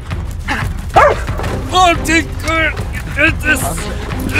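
A dog gives several short, high yipping barks in quick bursts, close by and mixed with excited people talking over the top.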